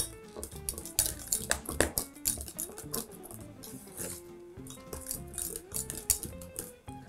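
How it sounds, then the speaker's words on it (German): A spoon stirs pudding in a pot. Busy metallic scraping and clinking come in uneven bursts, close by and moderately loud, with no voices. "Nochmal gut umrühren."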